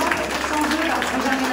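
An audience applauds the organisers at a cosplay contest at Auxerre Galactic Days 2022, a brief dense patter of clapping while a voice talks over it.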